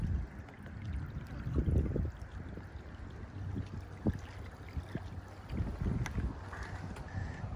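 A Windrider 16 sailboat glides across a small lake, with water sloshing against the hull and gusty wind buffeting the microphone, close and uneven throughout.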